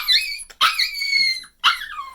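A puppy shut in a crate cries in close, loud high-pitched whines, three rising squeals with short gaps between them.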